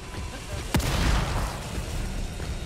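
A single loud shotgun blast fires in The Evil Within horror game, a sharp broadband crack followed by a boomy low tail, set against steady game ambience.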